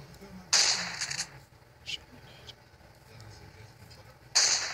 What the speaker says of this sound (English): and then the shotgun right here.